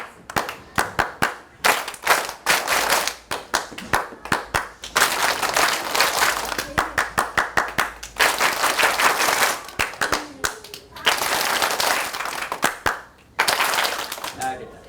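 Children in a school music class clapping, bursts of rhythmic group claps alternating with sustained sections of fast continuous clapping.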